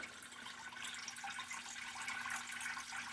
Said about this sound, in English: watch the amount of water that comes out the bottom